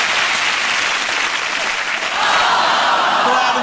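A television studio audience applauding steadily and loudly, a dense patter of many hands clapping that swells slightly toward the end.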